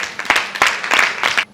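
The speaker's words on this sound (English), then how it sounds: "A round of applause for yourself." An audience at a Girls In ICT Day event bursts into brief applause, a quick patter of clapping close and fairly loud, ending abruptly.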